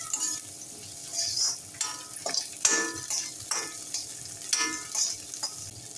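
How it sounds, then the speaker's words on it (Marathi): Capsicum for chilli paneer sautéing in a pan, a bright steady sizzle with repeated scraping stirs and clinks of a spatula against metal every second or so, close and clear, no voices. "शिमला मिरची घालूया, ती सुद्धा 1-2 मिनिटं परतून घेऊया।"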